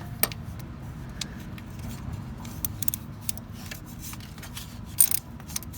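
Bolts being removed from the AC compressor of a 4G Mitsubishi Eclipse, heard as faint scattered metallic clinks and ratcheting ticks over a low steady rumble, with a louder rattle near the end.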